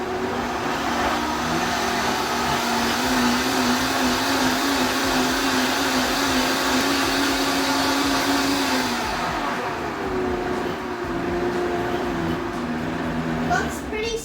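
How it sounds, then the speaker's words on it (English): Vitamix blender running at high speed, puréeing garlic jalapeno hot sauce with seeds, a loud steady motor whine and churning roar that shifts pitch partway through, close up and continuous. "Now this Vitamix will eventually almost completely blend up all the seeds and everything in there"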